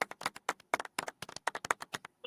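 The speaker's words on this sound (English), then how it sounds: "Golf clap." A brief burst of light, sparse hand claps, a handful of people patting their hands quietly in an uneven rhythm for a couple of seconds.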